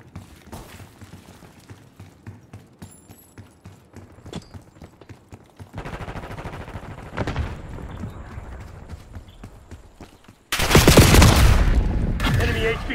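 Bursts of rapid gunfire from Call of Duty Black Ops 6 gameplay, scattered shots at first, then a heavier sustained barrage that grows loud near the end, with in-game voices calling out.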